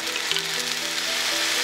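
Rice frying in a pan with soy sauce added, a loud steady sizzle and crackle filling the whole moment with no voices.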